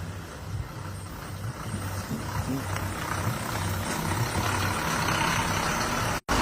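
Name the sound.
lorry engine straining over pothole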